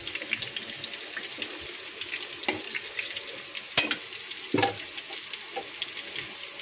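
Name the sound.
two eggs cracked into a pan for fried rice, frying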